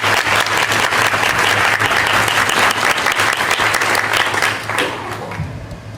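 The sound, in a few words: applause for award recipients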